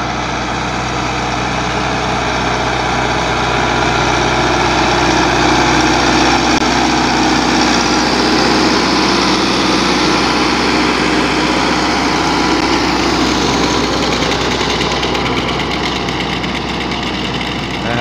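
A tractor engine runs steadily with a planter attached out in a farm field, a loud, continuous close-up drone that holds level for the whole stretch with no talk over it.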